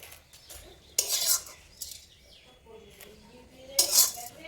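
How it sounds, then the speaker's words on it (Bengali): Rice batter mixed in a bowl with a spoon, brief clinks and scraping strokes in two louder bursts separated by quieter stretches, close by with faint background sounds. "আমি প্রথমে ব্যাটারটাই ভালো করে মিশিয়ে নিয়েছি"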